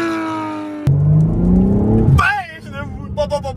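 A 2022 BMW M4 engine revs hard with a rising pitch, loud and close, then cuts off and gives way to squealing, warbling tones.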